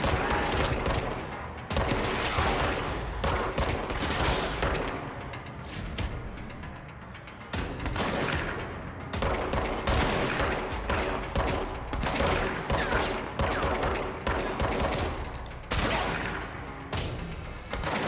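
Shotgun fire in the video game Control comes as dense, loud bursts of blasts and impacts in rapid succession, with short lulls between volleys.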